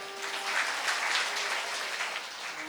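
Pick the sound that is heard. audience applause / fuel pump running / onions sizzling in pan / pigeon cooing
audience applause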